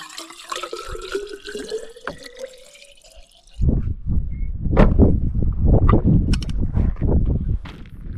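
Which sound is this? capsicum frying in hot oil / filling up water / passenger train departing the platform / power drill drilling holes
filling up water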